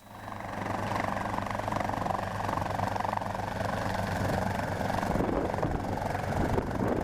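A small Hughes 269B helicopter's engine runs steadily nearby on the ground with a constant throbbing drone.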